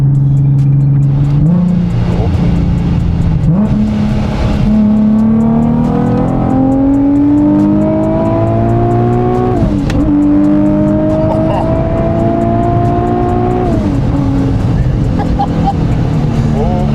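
A supercharged Nissan 370Z engine with a manual gearbox revs loudly and steadily, its pitch climbing through gears with brief drops between shifts, close and continuous.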